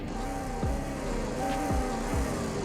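A 2013 Bullhorn Prancer Sheriff car in Roblox Greenville idles with a steady low engine drone, punctuated by three short downward-sweeping revs, heard alone with no talk.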